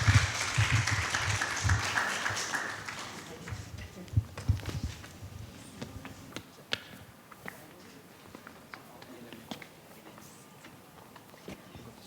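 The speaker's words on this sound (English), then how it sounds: "Let's give them a warm round of applause." Audience applause as a panel discussion's members are invited up on stage, a burst of clapping in the first few seconds that thins out into scattered claps, footsteps and shuffling in a small room.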